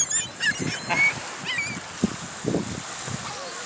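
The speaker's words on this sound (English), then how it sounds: "Dude, we attract a lot of seagulls." Gulls calling on a Lake Michigan beach, with several short honking cries at irregular intervals over a steady wash of wind and water and low background murmur.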